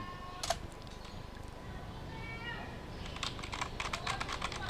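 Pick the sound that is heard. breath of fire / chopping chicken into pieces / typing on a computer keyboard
typing on a computer keyboard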